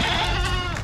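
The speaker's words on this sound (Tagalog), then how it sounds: "Oh, mga kambing." Goats kept at a rural home bleat in a brief, close, wavering cry over outdoor background noise.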